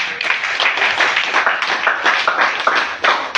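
A church congregation claps for Jesus in a lively, rapid burst of many hands, loud and close, rippling unevenly throughout with no talk over it.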